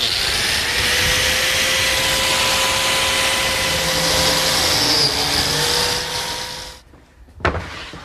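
A biscuit joiner cuts slots in a pine face frame with a loud, sustained motor whine for about seven seconds, then cuts off, followed by a brief burst of noise.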